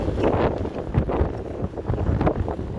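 Strong wind blusters steadily across an open deck, rumbling against the microphone in uneven gusts without any talking.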